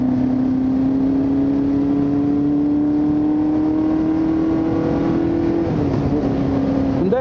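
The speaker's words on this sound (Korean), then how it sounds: "엔진 소리도 4기통이지만 수냉식 4기통과 차이가 조금 납니다." A Yamaha quarter-liter four-cylinder motorcycle engine drones steadily with a smooth, even hum that holds constant and rises slightly, then dips near the end; no voices.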